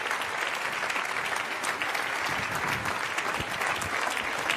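Sustained audience applause at the OTO 2016 awards ceremony, a dense, even wash of many hands clapping at once, continuing steadily throughout.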